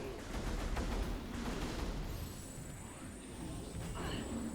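Arm cannon blasts fired at frozen enemies in Metroid Prime Remastered on Switch 2, set in the icy Phendrana Drifts: dense bursts of repeated shots over steady game noise, with some speech-like sound mixed in.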